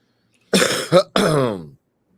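Three close, loud coughs in quick succession, a short one between two longer rasping bursts, with silence before and after.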